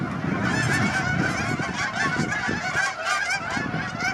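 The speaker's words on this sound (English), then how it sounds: "there's just hundreds of these geese migrating into this pond" Hundreds of migrating geese on a pond honk continuously in a dense, loud, overlapping chorus with no pauses and no voices.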